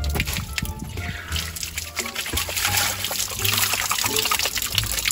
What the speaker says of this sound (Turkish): Dur bir ya su dolduruyorum.